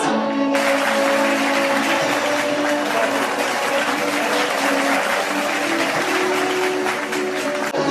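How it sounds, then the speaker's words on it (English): A crowd at an alumni gathering claps loudly and continuously during an announcement of honorees, a thick, even wash of applause from many hands that starts sharply and carries on steadily. "the applause should not stop"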